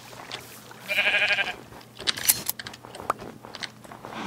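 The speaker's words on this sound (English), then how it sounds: "Sheep. I've been looking for sheep." Sheep bleat in the blocky sandbox video game Minecraft, one nasal bleat followed by short crunchy clicks and scattered game effects, moderately close with no talk.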